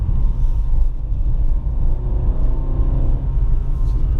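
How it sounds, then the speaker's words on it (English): Engine of a Honda Fit Sport droning steadily at freeway cruising speed, a continuous low rumble heard from inside the cabin with faint road noise and no talking. "the engine thrumming away beneath your right foot"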